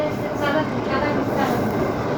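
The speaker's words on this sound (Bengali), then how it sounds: "আর এইটা হলো আমার রেলওয়ে। চলেন আপনাদেরকে একটা রাইড দিয়ে দেখাই।" Minecart rolling along a rail track in the Minecraft video game, a steady close rumbling rail clatter running continuously throughout with no pauses.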